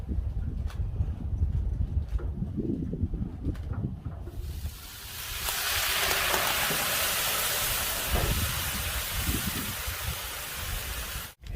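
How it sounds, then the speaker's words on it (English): Water hits a hot covered griddle of eggs and sausage patties outdoors in cold, windy weather. A loud, steady steam hiss bursts in and then runs on after a rougher, rumbling start. "you do want these to go for probably 2 minutes with the water, steam"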